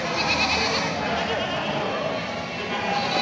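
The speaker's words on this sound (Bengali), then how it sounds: "দেখেন কত সুন্দর সুন্দর ছাগল" Goats bleat amid a dense, noisy livestock market crowd hubbub, their calls partly buried in the steady din.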